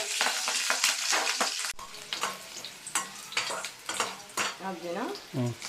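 Cloves, bay leaf, cardamom and chillies sizzle in hot oil at the start of a mutton curry, a loud, close crackle that eases into intermittent stirring scrapes and clinks.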